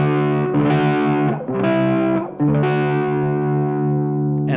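A distorted electric guitar plays a riff on strings 6, 5 and 3 with the 4th string lightly deadened, striking three loud, ringing chords that sustain and decay, with no talking.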